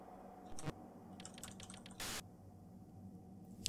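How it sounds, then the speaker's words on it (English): Someone types a short word on a computer keyboard: a few quiet, quick key clicks in small clusters with pauses between, faint and close, no talking. "I'm gonna type coffee in."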